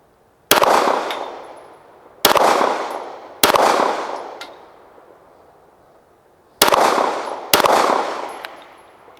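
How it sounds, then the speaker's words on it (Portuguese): Five gunshots fired at a target on a shooting range crack out loudly and close by in an uneven sequence, each a sharp blast with a long, echoing decay. "Fazer mais 5 tiros lá no azul ainda."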